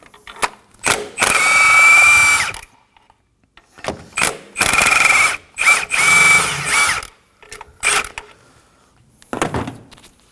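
A power tool spins engine mount nuts off a 2011-2016 Kia Optima 2.4L in several loud, close bursts of whirring and ratcheting, with short quiet gaps between them.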